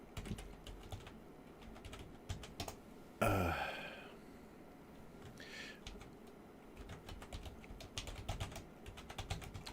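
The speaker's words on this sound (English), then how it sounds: "if I'm typing this, sorry, let me shift this keyboard closer" Typing on a computer keyboard goes on steadily in quiet, rapid clicking runs, broken by one louder thump or scrape as the keyboard is shifted, and then the tapping continues.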